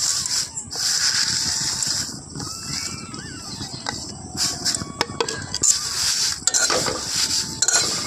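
Dried neem leaves dry-frying in a wok over a low gas flame, with steady scraping and stirring clatter, soft rustling and faint sizzle, close and continuous throughout.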